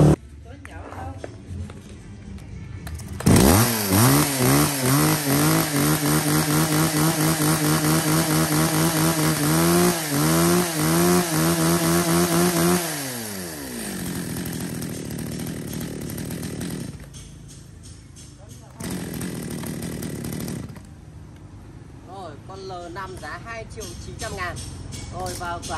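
A used Japanese chainsaw engine starts and revs hard, a loud buzzing two-stroke whine that rises and falls before dropping to idle and revving again. Close by, with someone talking over parts of it.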